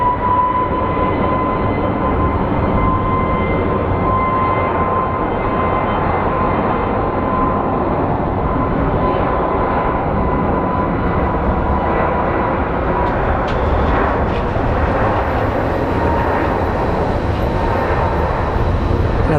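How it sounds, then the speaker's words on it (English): An Embraer 175 airliner departing Sky Harbor International Airport in Phoenix, bound for LAX, gives a loud, steady jet engine roar that holds throughout with little change, heard close and continuous. "we will be leaving you with the Embraer 175 going to LAX"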